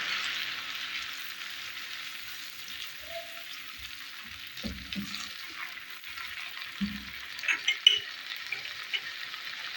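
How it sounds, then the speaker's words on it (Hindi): Tomato going into browned garlic and ginger frying in a pan, giving a steady quiet sizzle followed by a few soft thuds and stirring bumps near the end. "ये हमारा लहसुन और अदरक हो गया ब्राउन। अब मैं इसमें टमाटर डाल रही हूँ।"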